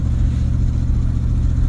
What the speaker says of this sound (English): I'm driving my fancy 1998 Ford Expedition that has no exhaust system